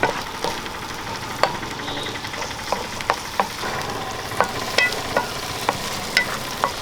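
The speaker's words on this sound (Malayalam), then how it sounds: "രണ്ട് ചെറിയ തക്കാളി ചെറുതായിട്ട് അരിഞ്ഞ് എടുത്തിട്ടുണ്ട് അത് നമുക്ക് ഇട്ട് കൊടുക്കാം" Finely chopped small tomatoes going into a frying chickpea curry base, a steady close sizzle broken by repeated light spoon taps and scrapes against the pan.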